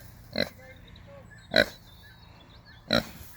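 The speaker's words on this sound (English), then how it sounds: "Just had to stop and say hello to these pigs." Three short, loud grunts from a tusked pig, evenly spaced about a second apart, with quiet background between them.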